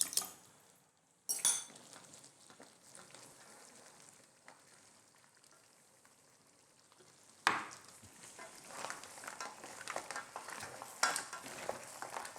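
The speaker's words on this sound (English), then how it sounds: "I'm going to stir in a beaten egg to form nice silky ribbons and add in an extra level of richness" Beaten egg being stirred into chilli crab sauce in a pan, with soft scraping and clinking of a utensil against the pan over a faint sizzle, in irregular bursts with a sharper clatter partway through.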